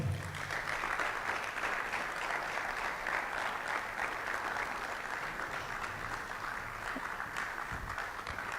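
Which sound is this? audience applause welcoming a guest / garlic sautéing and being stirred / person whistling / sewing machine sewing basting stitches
audience applause welcoming a guest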